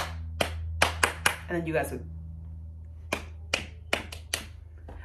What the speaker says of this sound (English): Like the little clap things you do to like get the kids to be quiet and then they do it back